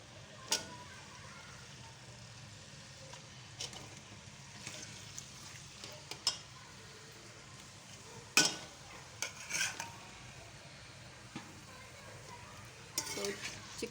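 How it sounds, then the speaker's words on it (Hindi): Around a kilogram of chicken fries in oil in a kadai, a low steady sizzle broken by occasional clanks and scrapes of a utensil against the pan. "अब मैं जो है चिकन वो डाल दूँगी और इसको जो है वो अच्छे से फ्राई कर लेंगे"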